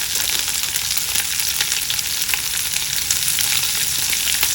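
Green chilies, ginger and thinly sliced onions fry for a wheat-flour masala dosa filling, giving a steady, close, even sizzle with no break from start to finish.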